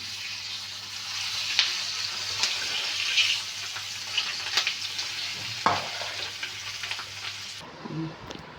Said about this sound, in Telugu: ఆపేసి ఇదిగా నేను పచ్చడి వేస్తున్నాను కలుపుతున్నాను